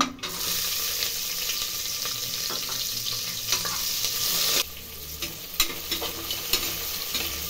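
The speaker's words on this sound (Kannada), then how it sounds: "ಈರುಳ್ಳಿ ಹಾಕ್ತಾಯಿದ್ದೀನಿ" Onions frying in a pan for vegetable pulao with fennel seeds, a bright continuous sizzle and stirring scrapes that drop to a lower crackle partway through.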